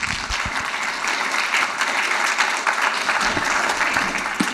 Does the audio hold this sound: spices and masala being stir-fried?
no